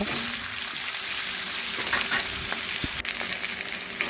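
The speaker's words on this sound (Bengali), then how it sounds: "বেশ কিছুক্ষণ সময় নিয়ে মাছের এক পাশ আমি ভেজে নেব।" Rohu fish heads fry in a pan for Bengali rohu fish curry, with a close, continuous sizzle that holds steady throughout, broken once by a brief soft tap, with no talking.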